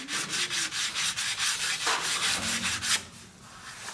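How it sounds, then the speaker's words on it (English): Wooden play button edges get a quick, rough sanding: steady rhythmic rubbing strokes, close and fairly loud, continuing back and forth without pause. "So just a very quick and rough sanding will do."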